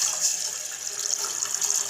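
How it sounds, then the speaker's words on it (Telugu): Water is poured from a vessel into a cooking pot on a stove, a steady bright hiss-splash lasting a couple of seconds without any talk. "నీళ్ళు వేద్దాము."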